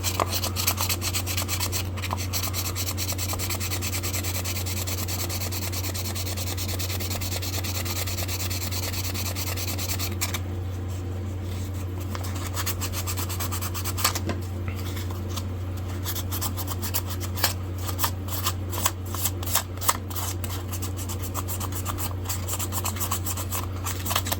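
A vintage German-made knife blade is sanded by hand with 1000-grit paper, giving a steady, continuous rasping rub with close, regular strokes that carry on throughout, a few louder scrapes near the end, and no voices.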